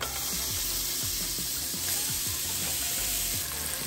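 A smashed, seasoned burger patty sizzles and fries steadily on a hot grill, a dense close hiss with small crackles and no talking.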